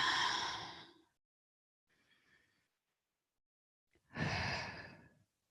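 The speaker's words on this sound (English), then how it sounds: "2 more deep breaths" Deep breathing during a prenatal yoga session: two strong, sighing breaths about four seconds apart, close and clear, with a faint softer breath between them and no talking.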